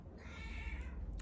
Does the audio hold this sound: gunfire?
no